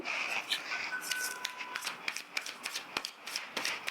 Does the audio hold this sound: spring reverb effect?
no